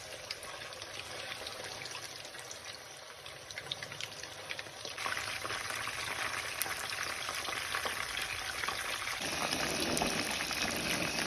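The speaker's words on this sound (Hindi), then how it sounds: "इस तरह बाकी फिश भी फ्राई कर लेंगे" Pieces of fish shallow-frying in oil for a fish salan curry, a steady dense crackling sizzle that grows louder partway through and continues evenly without talk.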